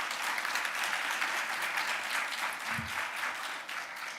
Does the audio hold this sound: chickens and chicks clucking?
no